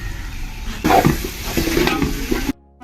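Homemade garam masala going into a sizzling pan for beef roast and being stirred in, with a steady sizzle and scraping stir strokes that grow louder partway through before cutting off.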